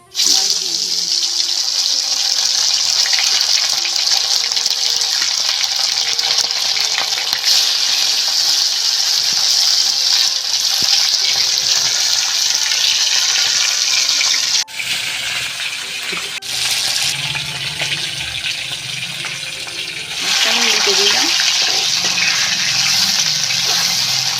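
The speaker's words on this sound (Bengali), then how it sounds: "প্রথমে আমি মাছ ভাজার জন্য কড়ায় সর্ষের তেল দিয়ে দিলাম" A loud, steady sizzle of fish frying in hot mustard oil in a wok hisses continuously, briefly dipping before surging again, with a voice talking faintly underneath.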